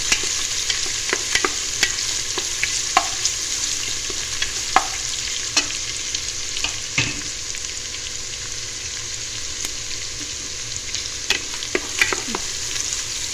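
Chopped onions frying in oil in a pan for fish biryani: a steady loud sizzle throughout, broken by intermittent scraping and clinking stirs, with no talk.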